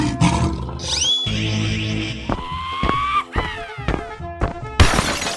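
A lion roars in a 3D animal sliding game, its growl mixed with bright synthetic game effects, crashes and whooshes, loud and close throughout with no talk.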